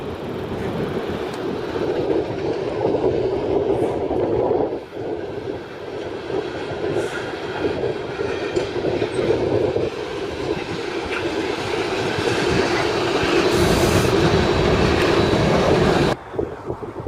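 A train rolls past on a railroad, a loud continuous rumble of rail cars with faint clickety-clack that holds steady for the whole stretch before cutting off abruptly near the end.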